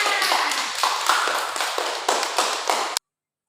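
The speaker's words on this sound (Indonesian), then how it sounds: "Ayo kita beri tepuk tangan untuk kita semua" Classroom students clap together in an Indonesian school lesson, a dense, brisk patter of many hands that holds steady and then stops abruptly, close and fairly loud.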